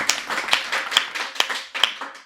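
An audience at a Hindi comic poetry recital claps for the poet Damdaar Banarasi, a steady rhythmic beat of loud, close claps coming about twice a second.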